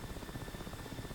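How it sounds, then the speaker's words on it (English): The AH-6 Little Bird helicopter in the DCS flight simulator gives a steady, muffled engine drone with fast rhythmic rotor pulsing throughout, fairly quiet and continuous. "I'm flying the AH-6 Little Bird."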